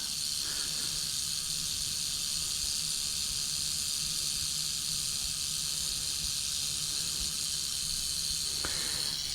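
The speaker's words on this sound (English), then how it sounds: "I was doing research on the gopher snake, and they were saying that they make the same noise as a rattlesnake" A gopher snake gives a loud, steady hiss like a rattlesnake, close and unbroken for about nine seconds, with only faint background noise and no talk.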